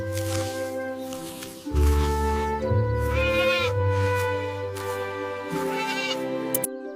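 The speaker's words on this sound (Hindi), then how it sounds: "The sheep is eating grass." Sheep bleating in several long, wavering calls, loud and close, one cry following another with brief gaps and no talk over them.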